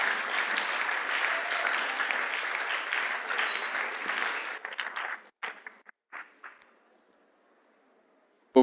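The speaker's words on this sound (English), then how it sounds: "With another round of applause, so loud that our eardrums can feel the heat" Audience applause at a children's gardening and small animal rearing competition in Ghana, a dense, loud burst of clapping that holds for several seconds, then breaks into scattered claps that trail off into quiet.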